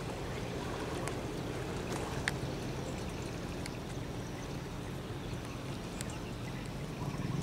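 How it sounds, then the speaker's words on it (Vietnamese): A large container ship's engine and propeller churn water hard at the stern, a steady, loud, continuous rushing wash without pause throughout. "cái động cơ cũng như chân vịt nó đạp nước đây ha"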